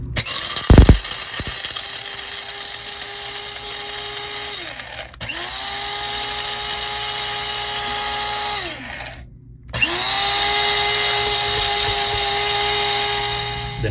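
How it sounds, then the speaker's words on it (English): Krups electric coffee grinder grinding whole coffee beans: a loud, high whirring motor in three bursts separated by brief pauses, each starting with a rising whine, heard alone without talk. "And when you push down right here, this button, it will grind."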